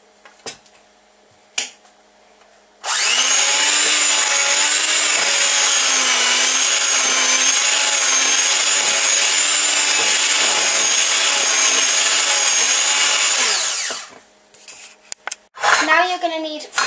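Cupcake batter whisked in a bowl, a loud continuous rapid whirring and rattling that runs for about eleven seconds, with some brief knocks before it and a voice talking after it stops.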